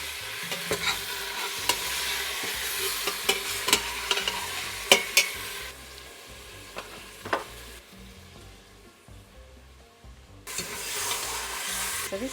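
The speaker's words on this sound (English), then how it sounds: "put in the silver beet and methi and brown that in the juices" Silverbeet and methi browning in meat juices on a gas stovetop in a lamb curry, giving a steady sizzle broken by repeated scraping stirs up close, with a brief quieter stretch before the frying noise returns.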